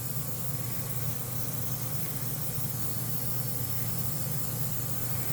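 Portable Casubaris airbrush kit spraying paint at full trigger, a steady close hiss of atomized air running unbroken the whole time with a low hum beneath.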